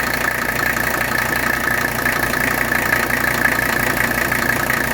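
A 1982 Mercedes 300D diesel engine idles close by, a dense, steady clatter and rumble that holds even for the whole stretch with no voices.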